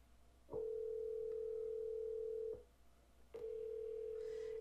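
Google Voice phone call ringing out: two long, steady electronic ring tones separated by a short pause, clear and isolated against faint background hiss.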